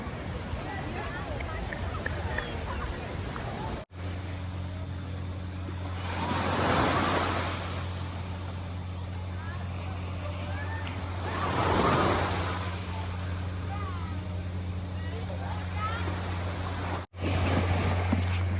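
Ocean waves roll in at high tide on a Boracay beach at about six o'clock, and two big surges build and fade over steady wind noise and a faint murmur of distant voices.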